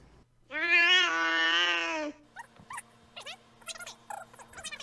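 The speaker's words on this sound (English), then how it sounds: "Not gonna lie, that is a fucking cute cat." Cat meowing: one long, loud, drawn-out meow of about a second and a half, followed by fainter, shorter chirps and squeaky bits with game sounds in the background.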